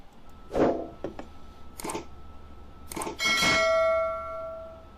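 A few scattered knocks and clicks, then a single bright bell ring that sustains and slowly fades, fairly quiet and close.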